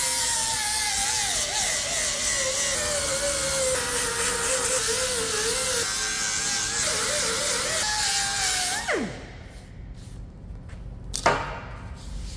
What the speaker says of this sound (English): we can sand down some of those welds and make it look a little bit nicer